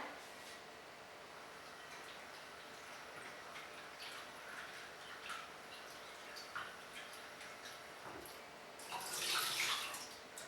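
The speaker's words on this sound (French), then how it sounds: "On va rincer la pomme de terre." Tap water runs softly over a cut potato in a kitchen sink during baby purée preparation, a faint continuous trickle with small clinks, swelling into a brief louder splash near the end.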